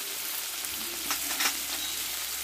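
Tomato, salt and spices sauté in a pan for a small-fish curry, giving a close, continuous sizzle, with a brief burst of stirring and scraping near the middle.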